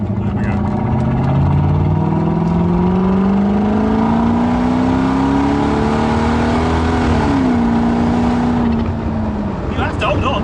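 A powerful supercharged V8 in a Mk2 Jaguar with straight-pipe exhaust revs hard and loud, its deep roar rising in pitch, holding, then dipping as it shifts and pulls away.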